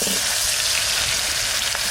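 Pieces of elephant foot yam hit hot oil in a wok and fry with a loud, dense, continuous sizzle close by, lasting only a couple of seconds.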